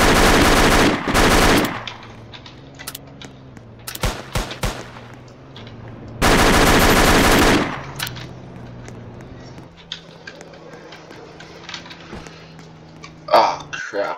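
Bursts of rapid automatic gunfire in a Roblox game, two long loud volleys and several short single shots, with quieter game sounds in between.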